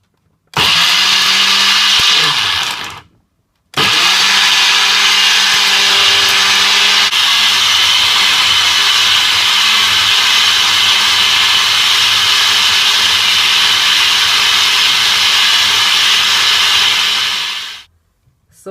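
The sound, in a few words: blender blending jerk marinade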